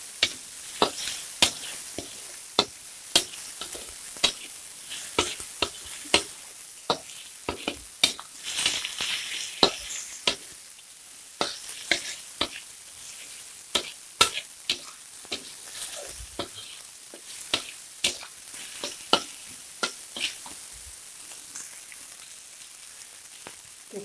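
Egg scrambled with tomato and cabbage in a wok gives a soft, steady sizzle, broken by frequent sharp taps and scrapes of a utensil against the pan.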